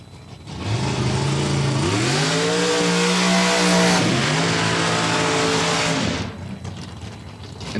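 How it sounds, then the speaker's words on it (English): A pair of drag racing dragsters roar through burnouts at a spring drag event, engines rising loud and close with a pitch dip midway, then cutting off after about six seconds, with no talking. "the first pair of dragsters completing their burnouts"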